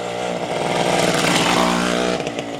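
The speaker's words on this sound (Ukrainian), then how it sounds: "Все, летить мотоцикл тільки в поворот влізти, не в дерево." A DKW RT 125 two-stroke motorcycle engine revs loudly and close, a buzzing, rising whine held for a couple of seconds on a forest test ride, with no talking.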